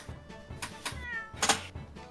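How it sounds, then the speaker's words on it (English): A cat in The Great Ace Attorney meows several times in quick succession, clear and fairly close, the calls rising in a short irregular rhythm over light background music. "Cat."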